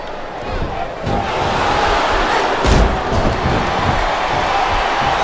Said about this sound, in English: I think this crowd's giving these superstars a piece of their minds, King.